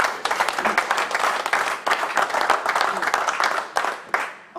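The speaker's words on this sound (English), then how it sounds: "you ought to give yourselves a round of applause" Audience at a Chester building-company event clapping together, a dense, loud round of applause that runs unbroken for several seconds before thinning out at the end.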